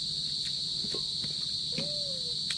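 Insects, likely crickets, chirping outdoors as a steady high-pitched drone, with faint scattered clicks and a brief gliding whistle in the background, no talking.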